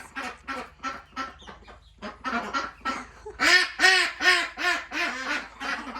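Loud, close quacking from several ducks, with a run of short calls and then a burst of longer, harsher honking quacks.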